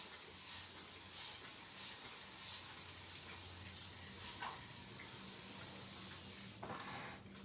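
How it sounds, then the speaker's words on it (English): A soft, steady hiss of fine spray runs throughout, with a few brief louder spritzes toward the end. "I'm going to take my spray bottle again"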